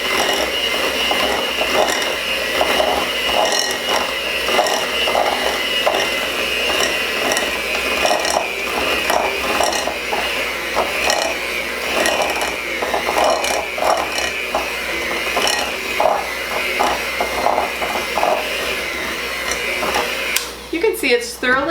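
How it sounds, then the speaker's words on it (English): An electric mixer beats butter and sugars for old-fashioned oatmeal cookies, a steady close whirring with rapid rhythmic clicking and rattling that runs throughout, ending in a brief clatter. "Some mixers you have to stop and start, so start in the middle of the bowl and stop and start if you need to"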